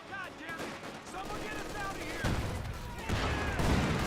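Shells strike in a Company of Heroes 2 battle amid gunfire crackle and heavier thudding impacts that build toward the end, with game voice callouts mixed in.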